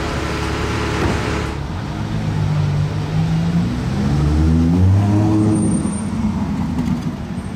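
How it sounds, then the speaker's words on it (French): A Bugatti Chiron pulls away on the street in Monaco, its engine tone climbing through loud, smooth rising sweeps before easing off, close by and with no talk. "Allez, Bugatti Chiron."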